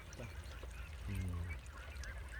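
Ducks from a flock of about 2,000 are driven across an open field, with a faint, brief quack rising out of quiet outdoor background noise.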